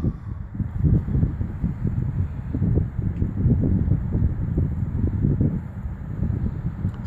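Strong wind gusts over an open football field, buffeting the microphone in a steady, close roar that surges and dips in irregular waves, with no voices.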